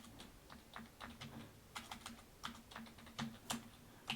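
Rapid, irregular clicking of keys on a computer keyboard while someone writes program code, close and fairly quiet, with short bursts and brief pauses and no talking.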